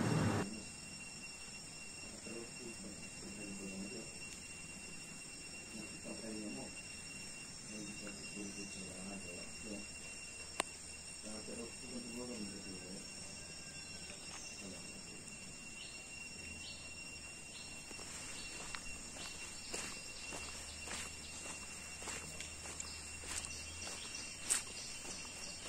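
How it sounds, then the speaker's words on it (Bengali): Crickets chirp continuously in a steady high drone through a calm outdoor setting in Mizoram, joined by someone talking at moderate level and occasional clicks and footsteps-like taps. "ওটা কিন্তু আসলে ঝিঝি পোকার ডাক।"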